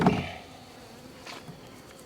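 Honey bees drone faintly around a hive frame while being cleared off during a honey pull, a low steady buzz following a brief louder knock at the start.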